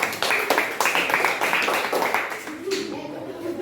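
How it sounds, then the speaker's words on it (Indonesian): Classroom students clapping together after a lesson on rice imports, a short burst of close, rhythmic hand claps that tapers off as voices take over near the end. "Kita tepuk tangan semuanya"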